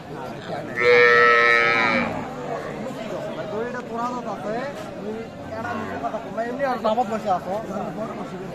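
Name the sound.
cow with calf mooing at cattle market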